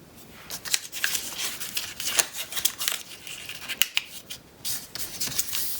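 Paper creasing and folding for an origami chicken craft, a run of crisp rustles, crinkles and sharp creases close by with no voices.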